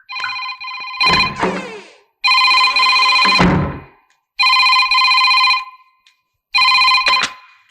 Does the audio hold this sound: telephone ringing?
yes